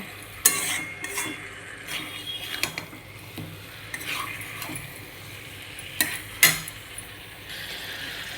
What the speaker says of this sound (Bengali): চিকেনটা এইভাবেই গলে যাবে এইভাবে আরও কিছুটা কষিয়ে নেব